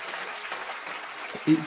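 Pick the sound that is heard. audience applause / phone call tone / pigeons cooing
audience applause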